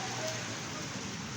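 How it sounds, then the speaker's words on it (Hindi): Heavy winter rain pouring in Karachi, a dense, steady hiss of water falling on surfaces, continuous and close with no breaks. "और बहुत ज़बरदस्त बारिश हो रही है"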